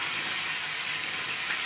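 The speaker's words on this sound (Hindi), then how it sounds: "इसी में हमें इसे अच्छी तरीके से अभी भूनना है।" Keema (minced meat) hisses and sizzles steadily in a pan over lightly golden fried onions, a constant broadband frying noise throughout with no voice.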